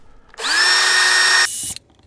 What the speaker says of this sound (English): we first should drill some pilot holes to make it easier.